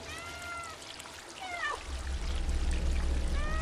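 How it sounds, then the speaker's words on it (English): Several cats meow in the Stray video game, a few clear rising mews up close, joined by a steady pouring, trickling water sound that grows louder partway through. "probably hears kitty cats go meow"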